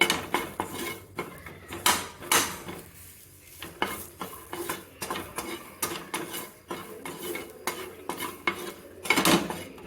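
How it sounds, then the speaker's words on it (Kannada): A utensil scrapes and clatters against a pan while onions fry for a okra and potato curry, with irregular clinks and stirring strokes up close and only faint sizzle underneath. "ನೋಡಿ ಈರುಳ್ಳಿ ಸ್ವಲ್ಪ ಆಡಿಸ್ಕೊಂಡು"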